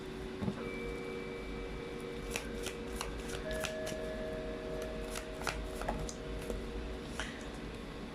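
Tarot cards being shuffled by hand, with soft, rapid riffling and light taps that repeat steadily at close range over faint background noise.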